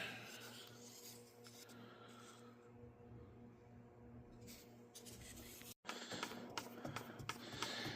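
Paint with sediment settled at the bottom of the can being stirred, a quiet continuous rasping scrape that stops briefly, then resumes with louder, busier scraping.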